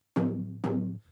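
An unprocessed, pitched-down future house bass layer plays two identical short hits in a row, each a loud sustained tone that decays, alone with no other sound.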